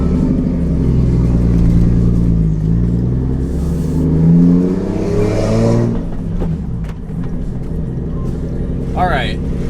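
A manual-swapped Toyota Soarer with a stage 5 clutch pulls away and accelerates, its loud engine droning and rising steadily from inside the cabin while someone talks over it.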